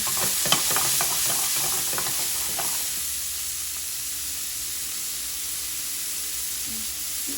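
Salmon pieces frying in oil in a pan, stirred and moved around. A steady close sizzle with scraping stir sounds early on, then settling into a softer continuous hiss.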